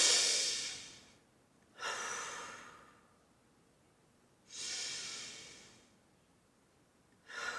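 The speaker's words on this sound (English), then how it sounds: "Let's take 3 deep breaths together." Slow deep breaths, each a long airy inhale or exhale lasting a couple of seconds, separated by quiet pauses, close and soft.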